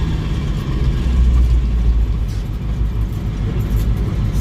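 A Ford F8000 truck with a Caterpillar 3208T 10.4-litre V8 turbo diesel pulls under full acceleration in high range, giving a steady, heavy, low rumble recorded close by from the cab.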